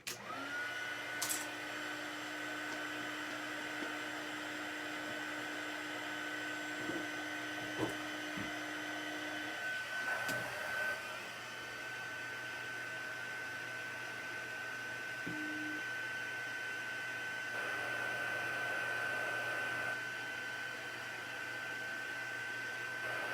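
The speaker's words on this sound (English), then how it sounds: "just going to heat up my heat tool." A heat tool warming up for rubber stamping and embossing at a craft table, a steady close blowing whir with a high tonal whine that holds across the clip and shifts slightly partway through.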